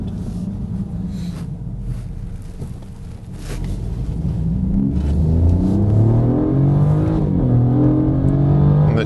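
A BMW prototype car with a three-cylinder engine idles with a low rumble, then accelerates hard. Its engine note climbs steadily and grows louder and closer, with a brief dip at a gear shift.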